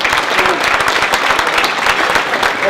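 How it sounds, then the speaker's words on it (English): A crowd applauds at a gala, with dense clapping from many hands that stays steady and fairly close for a few seconds. "give everybody a quick round of applause"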